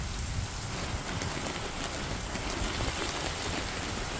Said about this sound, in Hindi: सुल्तानपुर की खबर आपको बताते हैं, जहां पर बारिश होने से लोगों को गर्मी से राहत मिली है।